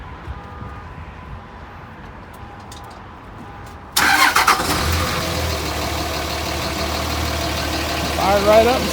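A big Dodge truck engine is heard, quiet at first, then cranking, catching and settling into a steady rumbling idle close by, with voices in the background.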